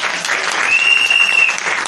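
An audience claps steadily at a donation ceremony, a dense, even wash of applause that holds for about two seconds without pause.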